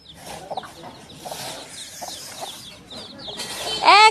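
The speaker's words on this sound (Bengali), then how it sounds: "এই যে আমগো মুরগি" Chickens clucking nearby, a run of short, irregular clucks and calls, rising to a loud, sharp squawk at the end.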